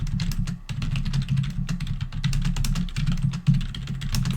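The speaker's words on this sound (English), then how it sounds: "At least you'll get to enjoy my loud typing sounds." Loud, fast typing on a computer keyboard, dense clattering keystrokes in irregular bursts throughout, over a steady low hum.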